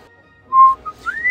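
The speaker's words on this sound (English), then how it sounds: "I hear a zookeeper whistling in my ear." Person whistling a short rising tune like a zookeeper, a held note followed by a brief chirp and an upward-sliding pitch, clear and close with no other sound.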